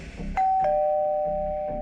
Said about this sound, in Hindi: दरवाजे की घंटी बजी।